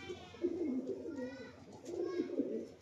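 Male native pigeons kept at home coo in low, murmuring phrases, faint and close, in two soft bursts with quiet gaps between.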